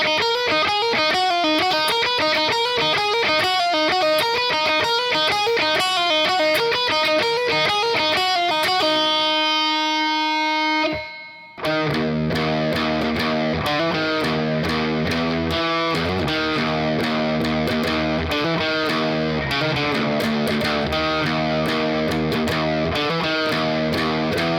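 Distorted electric guitar plays a track from DOOM Eternal: a loud, dense, driving riff with fast repeated notes, a brief cutoff midway, then a heavier chugging section continuing without talk.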